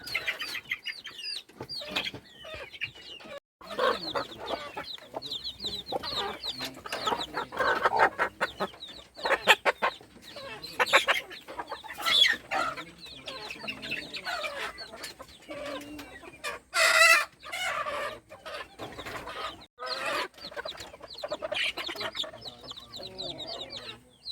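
Native chickens on a poultry farm cluck and cackle in a busy, irregular chorus close by, with a rooster's crow rising briefly above the flock partway through.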